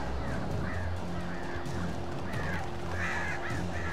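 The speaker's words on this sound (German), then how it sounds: "Vögel, wo seid ihr?" Honking, goose-like bird calls in the video game Alan Wake Remastered, several overlapping squawks repeating over a steady background rumble, fairly faint and from a distance.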